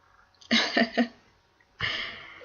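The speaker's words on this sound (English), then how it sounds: "Achoo." A character sneezes in the video game Hatoful Boyfriend Holiday Star: a sharp, close burst of three quick pulses followed after a short pause by a second breathy blast, fairly loud and alone with no talk.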